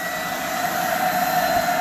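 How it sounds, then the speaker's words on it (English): A vacuum cleaner pressed into a car's floor carpet during a car installation job gives a loud, steady whining roar that holds unbroken from start to finish, with no talking. "that you just can't get the vacuum up in there and spray at the same time"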